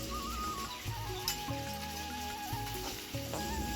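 Onions frying in a pan with garlic, salt, turmeric and a little red chilli, giving a steady close sizzle and crackle with no talking.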